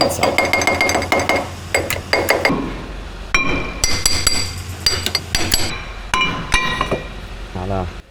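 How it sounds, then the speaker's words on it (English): Sharp metallic hammer taps knock a brake disc off a Citroen Xsara Picasso 2.0 HDI, ringing out in irregular bursts, some quick clusters and some single strikes, close and loud with clinking overtones. "A few taps with the hammer and it's out."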